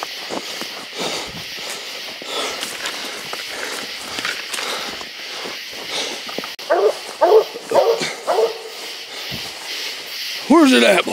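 A hunting dog bays and barks at a raccoon up a tree, out in the woods at night, heard at a distance in scattered bursts, with footsteps and someone talking close by.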